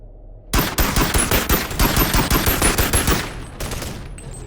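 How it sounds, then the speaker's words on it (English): Rapid automatic gunfire aimed at orange barrels in the VR video game Bonelab, a loud, dense burst of close shots in quick rhythm lasting about three seconds, followed by a few more rounds after a brief gap. "Can I shoot those barrels?"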